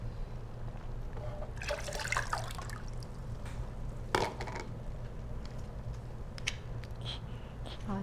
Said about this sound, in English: Pour all the ingredients in.